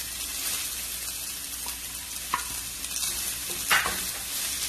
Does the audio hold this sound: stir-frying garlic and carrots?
yes